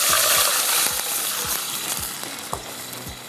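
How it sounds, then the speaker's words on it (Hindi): Oil sizzles and crackles loudly in a pot as a cinnamon stick fries, a dense close hiss with a few soft clinks and taps scattered over it. "थोड़ा सा ये फ्राई होता है इस तरह से"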